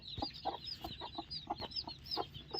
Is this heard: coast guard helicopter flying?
no